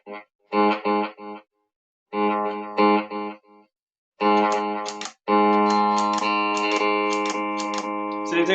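Guitar played through a reverb-style delay effect, short choppy bursts of notes followed by a long sustained chord that washes out, close and loud, without speech.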